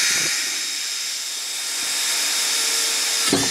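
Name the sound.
TOTAL drill drilling at second speed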